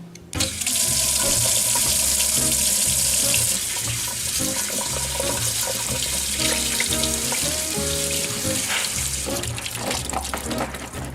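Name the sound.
rinsing peeled potatoes and onions under tap water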